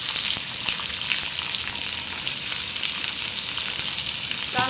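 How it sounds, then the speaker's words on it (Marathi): Curry leaves and chopped onion sizzle loudly in hot oil for tempering, a dense, continuous close-up hiss with crackling pops and no talking. "कढीपत्ता चांगला तडतडला की आपण हा कांदा चिरून घेतलेला घालूया।"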